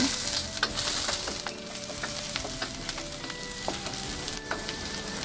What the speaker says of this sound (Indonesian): panaskan sedikit minyak, tumis bawang putih dan jahe